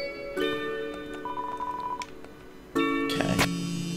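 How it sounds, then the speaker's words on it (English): A telephone rings in the Undertale video game with short tonal chirps. A sharper, louder ring pattern follows about halfway through, with no talking. "Phone is calling."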